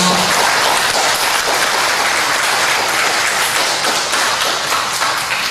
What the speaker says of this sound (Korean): 뜨거운 감사와 격려의 박수를 올려주시기 바랍니다